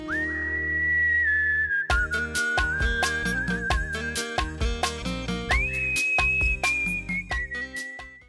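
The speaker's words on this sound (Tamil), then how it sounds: "ஃபுல்லாக அவருடைய விசில் யூஸ் பண்ணியிருப்பார்." A whistled song in the Carnatic raga Charukesi, carried by a clear, sustained melodic line with held notes and gliding pitch bends, set over a plucked and percussive accompaniment that pulses in a steady rhythm, loud and close.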